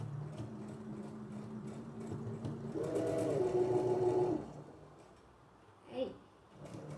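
Sewing machine stitching the finishing seam on a spaceship-shaped toiletry bag, a steady close mechanical whir running for a few seconds with faint talk before and after.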